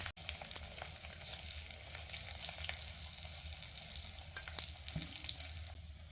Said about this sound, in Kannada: ಸಾಸಿವೆ ಸಿಡಿದ ನಂತರ ಒಂದು ಸ್ವಲ್ಪ ಉದ್ದಿನಬೇಳೆನ ಹಾಕ್ಕೊಳ್ಳಿ.